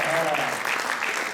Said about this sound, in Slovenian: Dajmo še en velik aplavz za vse plesalke in plesalce.